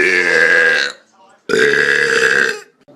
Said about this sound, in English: I can't stop burping!